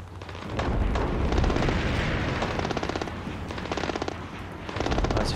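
Enemy gunfire in Splinter Cell: Blacklist, sustained bursts of automatic shots with booming impacts, loud and continuous and then easing into a rattling sputter before another heavy burst at the end.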